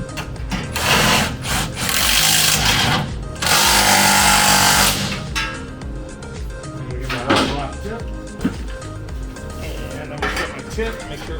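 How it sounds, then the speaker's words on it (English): A power tool bolts an exhaust hanger tight on a 2014–2021 Toyota Tundra 5.7L, rattling in loud bursts with clanks of metal parts between them and speech heard alongside. "So I'm going to just bolt this up tight."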